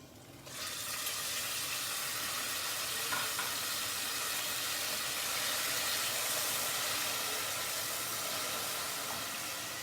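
Garlic sizzles steadily in a hot pan for tomato sauce, a dense, continuous frying hiss that starts abruptly and holds at an even, close level with no talking.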